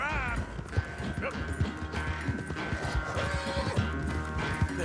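A horse whinnies over a steady clip-clop of hooves in Red Dead Redemption 2, set in a busy, layered game soundscape with music-like tones.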